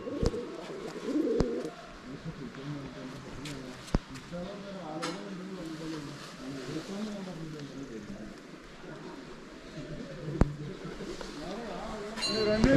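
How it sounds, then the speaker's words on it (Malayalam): Pigeons at a temple in Muktinath, Nepal coo softly in repeated low, rolling phrases beneath steady background murmur and occasional voices, with a few sharp clicks scattered through. "പ്രാവുകളൊക്കെ ഉണ്ട്."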